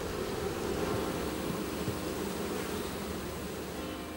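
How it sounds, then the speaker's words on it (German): Honey bees buzz as a dense, steady swarm drone that fades slightly toward the end, with no voices. "Wunderbar, meine Bienenlein."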